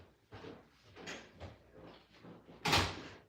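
An indoor door bumps and clatters through several soft knocks before a louder thud as it shuts, close by in a quiet room.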